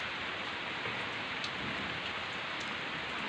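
Heavy storm rain pours steadily over a rice harvest, a dense continuous hiss of drops on surfaces with no voices.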